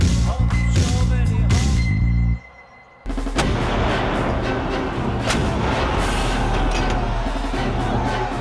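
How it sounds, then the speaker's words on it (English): Cannon fire at the siege of Constantinople booms and cracks in a dense, continuous barrage, loud and close, with a brief quiet gap before the heavy guns resume over a rumbling background. "As the guns began to fire from all directions, it became abundantly clear Constantinople was doomed."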